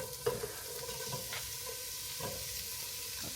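Food frying in a warmed pan in a home kitchen: a faint, steady sizzle with a few soft stirring scrapes and light clinks, no voices.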